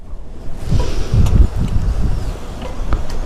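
Strong wind buffets the microphone outdoors on a trip through Mustang, a loud low rumbling roar that swells and surges without a break.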